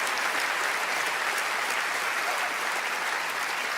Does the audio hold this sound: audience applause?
yes